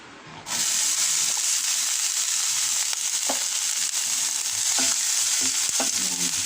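Red capsicum, red onion and garlic fry in annatto oil in a pan, giving a loud, steady sizzle and hiss broken by a few light stirring taps, with no one speaking.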